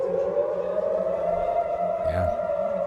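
A siren wails over empty streets, a steady, droning tone that carries from a distance under a faint background hum.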